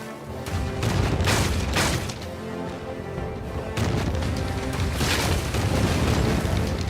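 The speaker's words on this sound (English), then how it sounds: "And yes, the ships do fire back." Ship cannons firing in the video game The Legend of Pirates Online, dense, booming blasts that overlap into a continuous loud rumble of naval battle with no talk.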